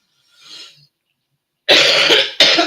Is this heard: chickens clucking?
no